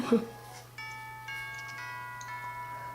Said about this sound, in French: Oh, c'est la cloche de l'école.